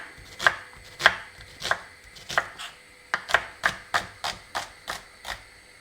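A knife chops through a red onion on a cutting board in steady, crisp strokes, about a dozen close, sharp taps with brief pauses, no voices.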